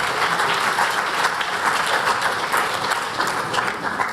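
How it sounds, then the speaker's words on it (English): Steady applause from an audience at a youth award event, a continuous wash of clapping at moderate level with no break across the short stretch. "So please, an applause for all these people."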